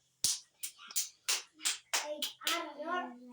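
A series of sharp hand claps by children, about seven, in a quick, slightly uneven rhythm close by, with a short vocal sound at the end.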